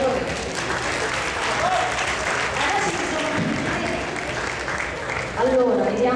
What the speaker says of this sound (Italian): Facciamo un applauso, per favore.